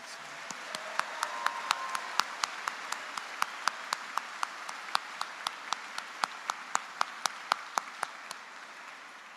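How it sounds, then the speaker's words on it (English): Applause for PhD graduates at a university electrical and computer engineering commencement ceremony, a broad wash of clapping with sharp individual claps standing out in a quick, uneven rhythm, sustained for several seconds. "Let's have a round of applause for our PhD graduates."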